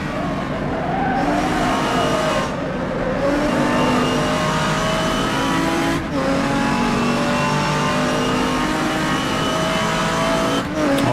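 A Porsche race car in a racing video game at Brands Hatch, 1986 setting, approaches with a loud, continuous engine drone, its pitch climbing and shifting through gears alongside other cars, with brief tyre squeals.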